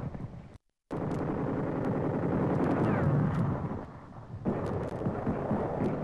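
Distant, rumbling gunfire and heavy blasts from 1945 combat on a hillside against Japanese positions, with machine-gun and sniper fire muffled under a continuous noisy roar after a brief dropout, no talking.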